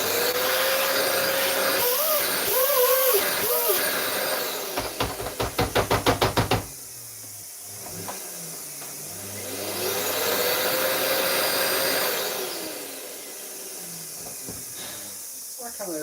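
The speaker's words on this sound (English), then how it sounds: "It's a genuine Hoover brand." A Hoover vacuum cleaner with a faulty power button runs with a loud, steady whining hiss that cuts out, gives a burst of rapid clicking knocks, then revs back up and winds down again.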